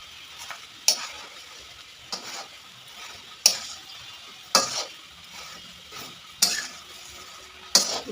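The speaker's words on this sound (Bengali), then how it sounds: "এটাকে আমি আস্তে আস্তে এখন নাড়াচাড়া করবো, শুকনো কড়াইয়ের মধ্যেই নাড়াচাড়া করবো" Kharkol being stirred in a dry wok, a series of sharp scraping clinks roughly every second over a faint steady hiss, close and fairly quiet with no talking.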